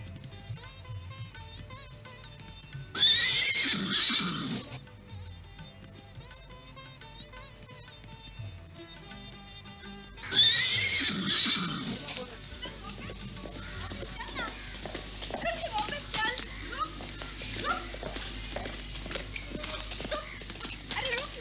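Two loud horse neighs ring out about seven seconds apart over music and outdoor background bustle in a dramatized period scene.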